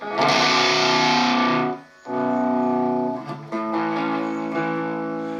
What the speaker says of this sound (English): If you want a little bluesier of a tone, you know, switch over to the neck position, and you can get that as well.